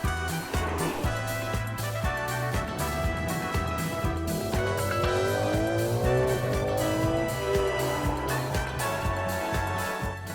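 A Ferrari 12Cilindri V12 pulls hard, its smooth high-pitched engine note climbing and shifting through rising sweeps, loud and close throughout.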